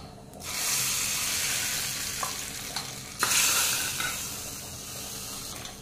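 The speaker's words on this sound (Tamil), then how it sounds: "இப்போ நம்ம தாளிப்புக்கு வந்து எண்ணெய் விட்டு கடுகு, உளுந்தம்பருப்பு, கறிவேப்பிலை போட்டுங்க." Mustard seeds, urad dal and curry leaves dropped into hot oil for tempering, a sudden loud sizzle that swells and crackles close up, with a sharp burst midway before settling into steady frying.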